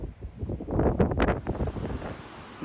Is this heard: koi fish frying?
no